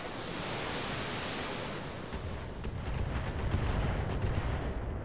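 Missile salvo striking a turret in the mech combat game Battletech, a dense roar of rumbling explosions that swells louder partway through, with no talk.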